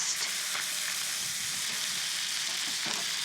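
Salmon fillets sear in a hot pan, giving a steady, close, even sizzle with a faint crackle running throughout and no voices over it.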